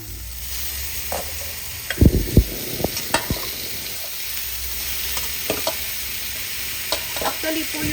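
Sliced bitter gourd (ampalaya) frying in a pan, with a continuous hiss and sizzle under repeated scraping and clattering strokes of a utensil stirring it, close and fairly loud.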